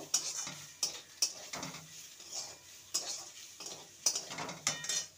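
Potato filling with noodle masala stirred in a pan, a spoon scraping and clinking against the metal in a rhythmic series of strokes over a faint sizzle, no talking.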